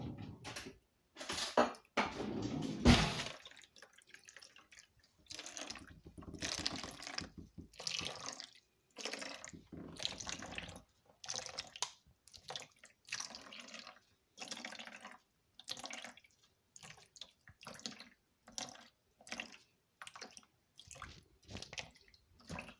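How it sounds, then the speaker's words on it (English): Homemade carrot juice being strained, with soft liquid dribbles, drips and squishy wet sounds in irregular short bursts separated by quiet pauses, close and fairly faint throughout. "So I'm straining my carrot juice"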